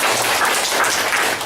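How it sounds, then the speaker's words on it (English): Workshop participants in Bukit Mertajam applauding together, a dense, steady wash of many hands clapping at close range with no voices over it. "You must give yourself a good clap."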